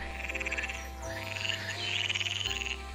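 Frogs and toads croaking around a marsh, a steady chorus of rapid pulsing calls that swells and overlaps across the whole stretch, close and fairly loud, with no voices.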